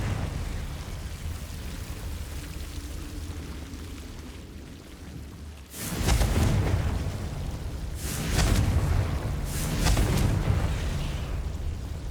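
In Hogwarts Legacy, Confringo blasting spells go off as heavy booming explosions, one loud burst near six seconds followed by two more rumbling blasts, over a steady low ambient wash with no voices.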